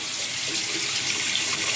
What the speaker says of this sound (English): I'm going to just run it past this warm water here